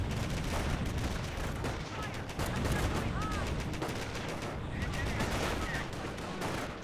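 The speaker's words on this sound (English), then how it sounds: "Volks Grenadiers taking a bit of fire" Sustained gunfire in the video game Company of Heroes, a dense unbroken rattle of rifle and machine-gun shots aimed at Volks Grenadiers, loud and continuous throughout with no clear pauses.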